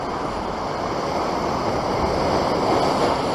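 Surf rolling in along a cliff-backed rocky shore where people fish, a steady loud wash of broken waves with wind noise and no pauses.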